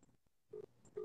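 A telephone number is dialed on a phone, a few short faint tones and beeps heard close and quiet over about a second.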